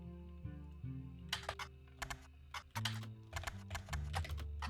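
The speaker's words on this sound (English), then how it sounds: "this sound of the keyboard is so satisfying" Computer keyboard typing in irregular bursts of sharp clicks, fairly close, over a steady low hum of game music.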